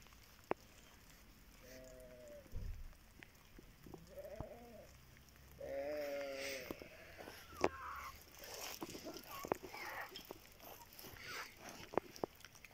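Several sheep bleat in short wavering calls, a few seconds apart, over quiet outdoor background after rain, with scattered knocks and rustling.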